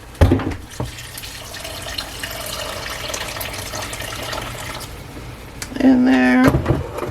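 A kitchen tap runs in a steady, close rush of water for several seconds, ending with a brief higher tonal squeal as it shuts off.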